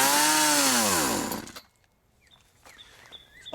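A chainsaw engine on choke roars loudly and close, its pitch sagging for about a second and a half before it dies. Faint clicks and handling noises follow in the quiet.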